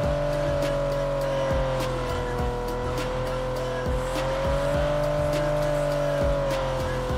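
A car skids in the PUBG video game, its steady engine drone joined by wavering tire squeal and repeated clicking bursts, continuous and loud.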